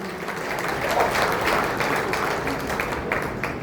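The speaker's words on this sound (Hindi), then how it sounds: "एक बार चाहूंगी उनके लिए जोरदार तालियां" Applause from an audience at a Partition Horrors Remembrance Day event, a steady, fairly dense wash of clapping that holds evenly throughout without voices on top.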